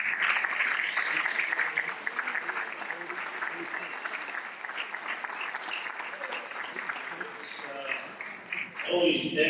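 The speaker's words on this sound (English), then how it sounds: "It's always dangerous to applaud before one speaks" Applause from an audience at a Democratic Socialists meeting in New York City as a speaker takes the microphone, sustained moderate clapping with some chatter underneath, fading before a voice starts at the end.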